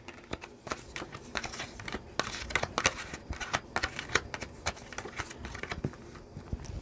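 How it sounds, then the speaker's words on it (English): A deck of tarot cards is shuffled by hand, giving rapid irregular riffling and flapping bursts with sharp card snaps and no talking. "I'm just going to do a little live shuffle here for a quick sec"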